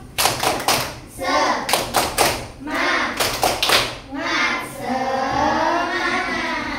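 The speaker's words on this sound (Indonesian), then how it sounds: "sama-sama kita tepuk semangat" A group performs the rhythmic Indonesian 'tepuk semangat' cheer, bursts of sharp claps in patterned groups alternating with chanted voices, loud and close.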